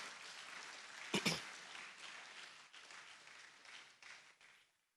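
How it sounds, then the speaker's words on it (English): Applause from the audience at the Otumfuo Osei Tutu II Art Awards, a steady wash of clapping with a louder burst near the start that thins and fades out by the end. "just use the God-created instrument in your hand and let's applaud them"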